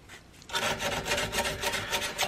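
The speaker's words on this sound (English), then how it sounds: "But as I'm up here into the 120 grit or 180 grit sandpaper," A rifle trigger guard for a CVA Hawken muzzleloader is sanded by hand with 120 or 180 grit sandpaper, giving close, steady rasping strokes in a quick even rhythm after a brief quieter start.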